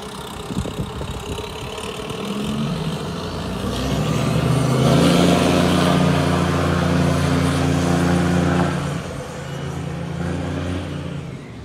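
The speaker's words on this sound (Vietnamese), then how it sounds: "Âm thanh nghe, âm thanh của động cơ nghe cũng uy lực" Inboard diesel engine running on a small speedboat with a freshly installed angled propeller shaft, a steady low rumble that swells louder in the middle and then settles back, with no talking.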